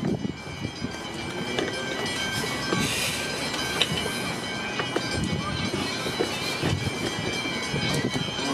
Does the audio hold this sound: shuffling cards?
no